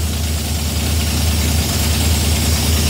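A car engine with a FiTech fuel injection system idles steadily at a fairly high, constant rev, with a continuous low rumble and even hum that holds throughout.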